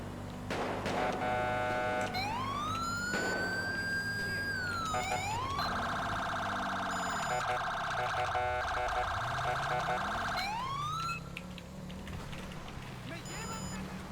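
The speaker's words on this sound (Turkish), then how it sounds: "Sirenler falan da geliyor buradan ha." Police sirens in GTA 5 wail and sweep up and down over a low engine drone, loud and steady throughout with no pauses.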